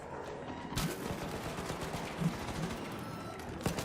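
Gunfire in Call of Duty Modern Warfare 3, ranked multiplayer: sharp, loud shots crack out in irregular bursts over a constant rumble of battlefield noise, with one heavy blast near the start.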